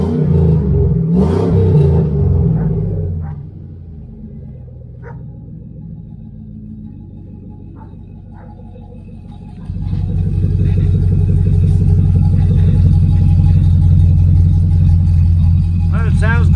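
A 2002 Chevrolet Avalanche engine runs through a straight-pipe exhaust with no tailpipe, a deep idle rumble that quiets, then swells louder and steadier near the end, with scattered clicks and sounds over it.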